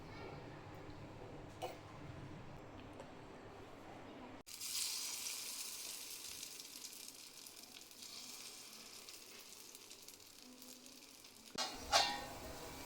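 Rava appe batter cooking in hot oil in an appe pan on a gas stove, a bright steady sizzle bursting in after a quieter stretch and continuing, closing with a couple of utensil clinks.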